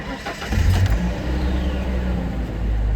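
A 1997 Ford Ranger rescued from a scrapyard cranks and fires up on its first start of the day. The engine catches quickly, then settles into a loud, steady, rough idle close to the microphone, with no talking.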